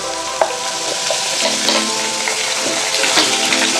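Potatoes and pumpkin being stirred in a pan of hot oil, a loud close sizzle with intermittent scrapes and light knocks of the spoon, no talking.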